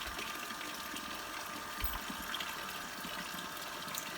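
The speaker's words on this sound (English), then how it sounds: "pour into your ice cream machine and churn as per the maker's" An ice cream machine churns a chilled cantaloupe ice cream mix, giving a steady, even whirring wash of sound that runs unbroken from start to finish at moderate volume with no voices.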